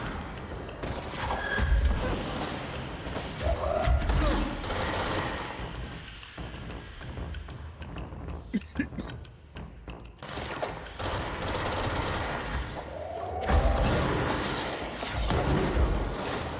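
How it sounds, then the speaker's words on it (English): Rapid automatic gunfire from a chain gun in a video game, sustained and loud across most of the stretch with sharp bursts and booms, briefly thinning near the middle before resuming dense firing. "Chain gun."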